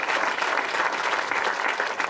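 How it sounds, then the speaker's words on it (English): Round of applause from a conference workshop audience, a dense and loud wash of many clapping hands that holds evenly throughout. "so everyone can give you a round of applause"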